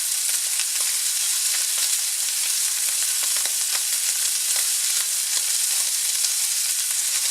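Rendered steak fat fries in a hot pan, a loud, dense, continuous sizzle with scattered pops and crackles throughout, heard alone without any speech.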